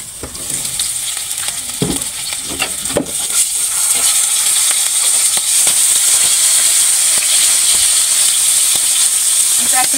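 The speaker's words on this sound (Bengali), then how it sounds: "দেখেছেন কীভাবে ফুটতেছে।" Fish curry boiling and sizzling in a covered pan, a dense continuous hiss and bubbling that grows louder and steadier after the first few seconds, with scattered crackles and utensil clicks close by.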